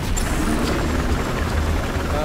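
A helicopter in the video game Battlefield Hardline whirs with a loud, steady rotor drone and low engine rumble throughout, mixed with game noise and players' voices talking over it.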